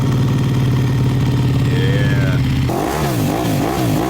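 A motorcycle engine starts with a low steady idle, then snaps into loud, wavering revs that rise and fall several times, close by and alone.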